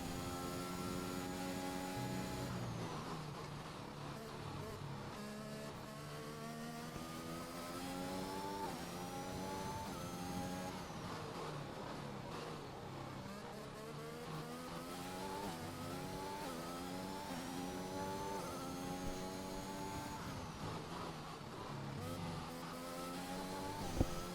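Racing car engines in a sim racing video game on a Spain circuit drone and rev steadily, with repeated rising and falling pitch sweeps through gear changes, several cars overlapping at moderate loudness throughout.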